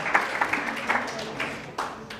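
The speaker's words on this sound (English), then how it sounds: "why don't you clap for your friend?" An audience gives brief scattered applause, a few sharp claps standing out over a soft patter, with talking mixed in.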